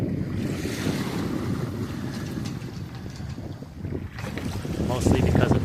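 Wind buffets the microphone and waves wash steadily around a Cape Dory 25 sailing at about five knots in roughly eleven knots of breeze offshore, a constant rushing roar.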